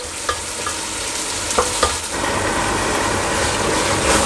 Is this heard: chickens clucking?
no